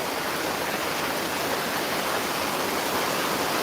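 Heavy rain pouring at the Gabtoli cattle market, a dense, even hiss of falling water that holds steady throughout with no voices.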